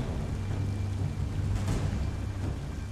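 Steady rain falls outdoors, a dense, even hiss with low rumbling underneath, continuous and fairly close with no voices over it.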